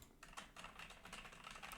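A computer keyboard is typed on in a steady patter of quick, crisp key clicks, close and very quiet, with no voices present.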